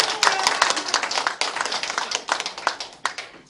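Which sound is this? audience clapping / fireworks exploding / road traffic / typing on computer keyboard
audience clapping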